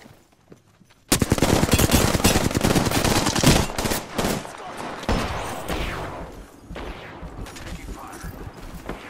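Gunfire in the Apex Legends battle royale game, with sudden loud bursts of rapid automatic shots and single cracks over several seconds, mixed with game sounds and chatter.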